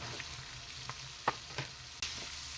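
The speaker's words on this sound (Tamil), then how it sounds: "மிளகாயை சேர்த்துட்டு மீடியம் ஃப்ளேமில் வச்சு ஒரு ஒரு நிமிஷம் வதக்கி விடுங்க" Sliced bajji chillies sautéing in a pan over a medium flame, giving a low steady sizzle with a few soft stirring scrapes and clicks; no talking.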